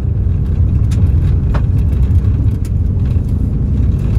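Fiat Strada pickup truck driving while carrying 500 kg of cargo on a dirt country road, a loud, steady low engine and road rumble with a few faint rattles.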